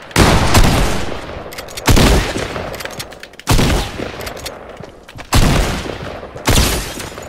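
Loud bursts of automatic AR rifle fire in a shooter video game, five sharp volleys a second or so apart, each followed by a fading tail, with no talk over them.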